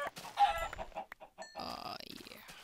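Chickens cluck and squawk in a Minecraft-style video game, a burst of sharp, close-sounding fowl calls followed by a wavering in-game tone, with no talk over it.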